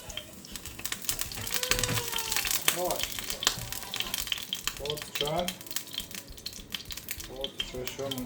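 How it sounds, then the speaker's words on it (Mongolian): Fish sizzles steadily while frying in a pan in a home kitchen, a continuous crackling hiss with small pops as a person talks intermittently over it. "Загсаа ингээд энэ дээр шараад гэж бодлоо."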